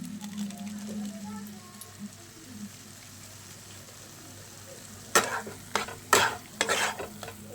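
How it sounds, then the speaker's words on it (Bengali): Papaya ghanto, a papaya curry, is stirred in the pan after garam masala is added, giving a few distinct scraping strokes near the end over a quiet low sizzle. "গরম মশলাটা দিয়ে নেড়ে চেড়ে"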